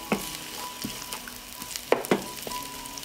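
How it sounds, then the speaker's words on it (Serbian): Chopped bacon fries in a pan with a low continuous sizzle, broken by a few sharp crackles and spatula scrapes, close and without speech. "Dodajem seckanu slaninicu i nju ću propržiti."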